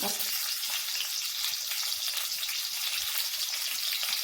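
Green chillies fry in hot oil in a kadai, giving a dense, continuous crackling sizzle that stays loud and even with no voices over it.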